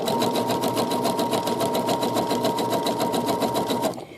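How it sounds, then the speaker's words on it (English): A sewing machine runs fast, stitching a zigzag seam along a trimmed inseam: a loud, rapid, evenly pulsing whir of needle strokes that carries on steadily before winding down and stopping at the end. "I'm going to go a little faster just for you"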